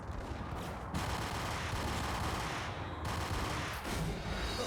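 Gunfire in the Max Payne video game, a dense burst of shots and rattling fire that keeps going throughout, sounding fairly muffled and blended with the game's background noise.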